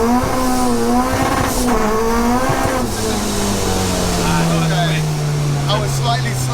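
A supercharged K-swapped Honda Civic coupe time-attack car launches hard with heavy wheel spin, its engine note rising and then sweeping down loud and close, with tires squealing and people talking over it.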